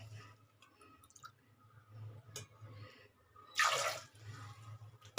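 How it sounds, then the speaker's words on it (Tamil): Two cups of water poured from a cup into a pressure cooker holding amla (Indian gooseberries) in a home kitchen: one short splashing gush of about half a second, close by, over a low steady hum, with no talking. "இந்த கப்பில் ரெண்டு கப்பு தண்ணி விட்டுக்கிறேன்"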